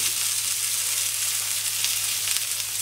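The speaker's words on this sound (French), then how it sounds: "la viande est en train de se caraméliser à la surface" Meat searing on a hot plancha griddle, a steady close broadband sizzle and crackle with no talking.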